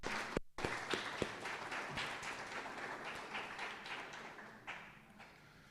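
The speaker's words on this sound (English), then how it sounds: "Round of applause, please, for Lana in 1NS" An audience at a school speech day claps for a Year 1 pupil receiving an award, fairly faint and diffuse applause with a few sharper nearby claps near the start, fading slightly toward the end.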